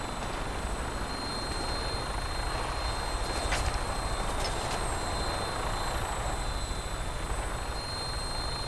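A helicopter-style aircraft taking off in the video game Fallout 4 produces a dense, continuous rotor and engine roar that stays steady and loud throughout, with no speech.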